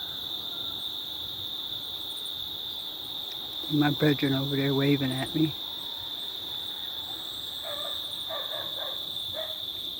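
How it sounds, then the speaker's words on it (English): Steady high-pitched insect drone of cicadas, called June bugs locally, fills the background outdoors at a plant nursery after rain, constant throughout, with a dog barking briefly midway and a voice speaking. "And what you hear in the background are what they call June bugs. I guess in America we call them cicadas"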